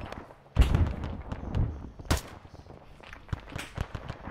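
Enemy mortar fire in Arma 3 lands as a few heavy, booming thuds, the loudest two spaced about a second and a half apart, with smaller cracks and pops of battle scattered after them.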